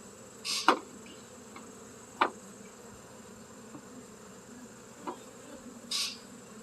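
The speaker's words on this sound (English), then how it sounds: "The bees are kind of angry right now" Low, constant buzzing of many angry honeybees during a hive inspection, with a few sharp clicks and knocks scattered over it at irregular intervals.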